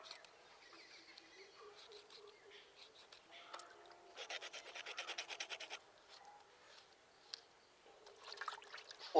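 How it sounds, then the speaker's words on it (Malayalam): Fish scales being scraped off by hand during cleaning for a fish curry, giving rapid rasping scrapes in bursts, loudest in a dense run midway, with pauses and small knocks between, close and alone. "ഇതൊന്നും കൂടെ ചിരണ്ടി വൃത്തിയാക്കി എടുക്കും"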